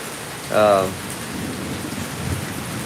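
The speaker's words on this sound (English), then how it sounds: "As you guys can hear, we're having a thunderstorm" Steady rain hisses throughout during a thunderstorm at an outdoor wood-firing kiln, with a low distant rumble of thunder underneath and a brief tonal sound early on; no one speaks.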